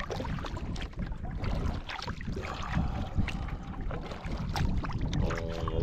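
A canoe is paddled across a lake in the wilderness, with irregular splashes and water swirling around the hull under light wind rumble, close and fairly loud, with no talking.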